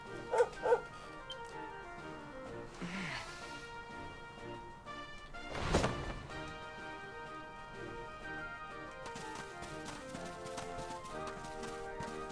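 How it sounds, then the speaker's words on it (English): A dog barks in Dragon Quest XI on PS4: a couple of sharp barks up front, then more yelps and whimpers over steady game music with clip-clopping hooves in the background. "Fucking dog again. Can this thing die already?"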